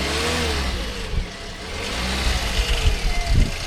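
A repaired Toyota Corolla engine running, a steady mid-pitched hum that dips briefly and then picks up again with a few throttle blips and revs near the end, close by with no talk.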